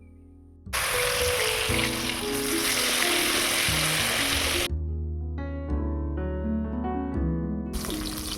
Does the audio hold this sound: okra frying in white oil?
yes